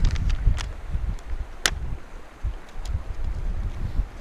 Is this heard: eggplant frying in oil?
no